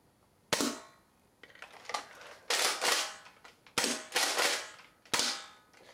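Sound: Nerf blaster firing darts at a target

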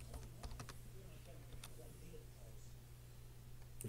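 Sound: typing on a computer keyboard

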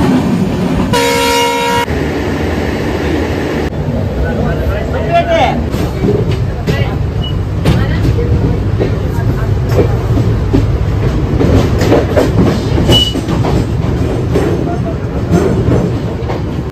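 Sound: train passing

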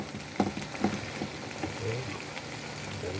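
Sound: stir-fried eggplant bubbling in a pan

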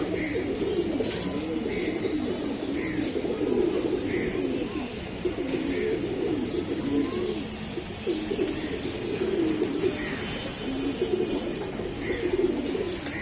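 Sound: pigeons cooing

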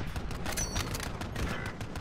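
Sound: gunfire in the video game Warzone

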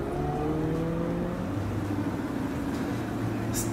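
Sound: sports car driving past

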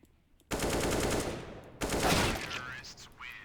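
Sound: gunfire from a shooting video game

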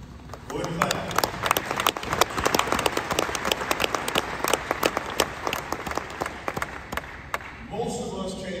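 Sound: audience applause

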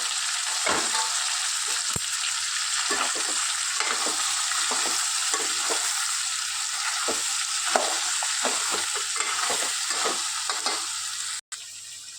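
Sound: crabs frying and being stirred in a pan

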